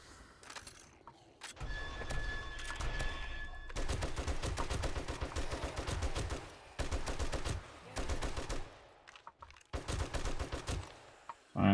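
Rapid automatic turret gunfire from the video game 7 Days to Die, loud bursts of repeated shots in several long volleys separated by brief pauses, with a mechanical hum running underneath.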